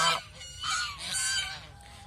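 A large goose honks several times in quick succession, loud and close, with short nasal calls and brief pauses between them.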